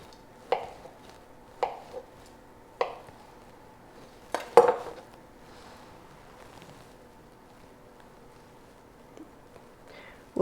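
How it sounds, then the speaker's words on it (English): Knife slicing an avocado into thin slices, heard as a few sharp, separate cuts and taps on a cutting board at irregular intervals, with quiet gaps in between. "I'm going to take an avocado and make some thin slices"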